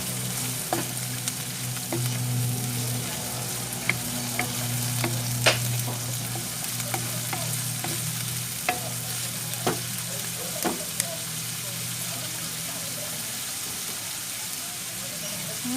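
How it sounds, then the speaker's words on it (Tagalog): Small shrimp fry in a pan in an oil-based sautéed dish, a steady soft sizzle with scattered sharp pops and spatula scrapes, close and continuous. "Lagay na natin ang hipon."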